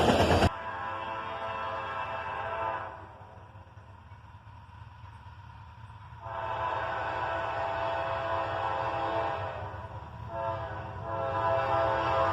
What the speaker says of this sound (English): An AT-44AH and an AC-44 CW lead this auto rack train southbound.